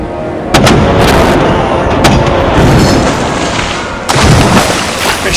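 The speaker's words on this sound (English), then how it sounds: "Ready the cannons." Pirate ship cannons firing in a stop-motion animated battle, several loud booming blasts in quick succession with crackling rumble between them.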